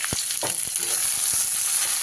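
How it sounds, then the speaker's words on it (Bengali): Three medium chopped onions fry in oil with whole spices for an egg curry: a steady close sizzle broken by a few sharp scraping stirs of the spoon, no voices. "পেঁয়াজটাকে এইভাবে লাল লাল করে আমি ভেজে নিয়েছি"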